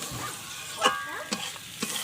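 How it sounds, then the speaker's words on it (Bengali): Boiled potatoes and pre-fried young jackfruit are stir-fried in spiced oil. A soft sizzle sits under three distinct scraping strokes of a spatula against the pan, spaced about half a second apart. "এবার আমি দিয়ে দেবো আলু আর এঁচোড়টা যেটা ভেজে রেখেছিলাম, ওইটা দিয়ে এবার একটু কষিয়ে নেবো আমি"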